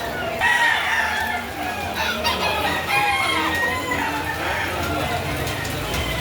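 At a rainy chicken market in Lipa City, Batangas, many chickens cluck and roosters crow repeatedly, several overlapping calls near and far, with people talking nearby.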